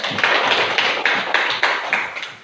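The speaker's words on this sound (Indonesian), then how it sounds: "Kita beri tepuk tangan untuk." A school class claps hands in unison, a rhythmic series of about eight sharp, evenly spaced group claps, close and clear with no talking.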